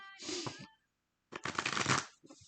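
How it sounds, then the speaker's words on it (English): A deck of cards being shuffled by hand, two crisp riffling bursts separated by a short pause, close and clear with no talking. "Everything's pre-shuffled, but I will do a little slight shuffle to get things going again."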